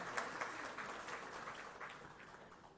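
Faint, distant applause from a crowd at the inaugural session of a health summit in Rajasthan, a steady wash of many hands clapping that fades slightly toward the end.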